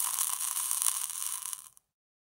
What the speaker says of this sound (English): this is the sound of a flame extinguishing in a glass of water